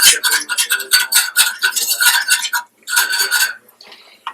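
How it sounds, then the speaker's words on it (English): A utensil stirs butter into a roux in a pan, scraping and clinking in repeated bursts with short pauses. It is close and fairly loud, and the scraping fades near the end. "Stir that in with the roux"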